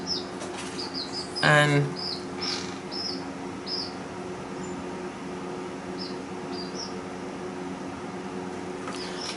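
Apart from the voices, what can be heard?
pet bird rustling in its nesting box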